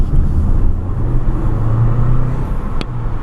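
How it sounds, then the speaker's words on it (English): A Mercedes-Benz GLB petrol hybrid engine while driving at night, heard as a steady low cabin hum and road rumble, fairly loud and continuous, with a brief click near the end. "I love the sound the engine makes of the electric."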